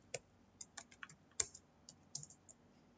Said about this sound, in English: we code typing PHP code